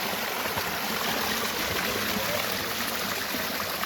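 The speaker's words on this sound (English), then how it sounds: "so water come from a rock" Spring water pours out of a rock at a natural oasis in Jamaica, a steady, close rushing flow that fills the whole clip with no talk over it.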